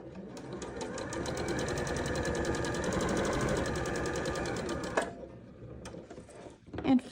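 Sewing machine stitching a seam on a twist quilt block, a close, steady rapid needle chatter for about five seconds before it stops, then a few soft handling sounds.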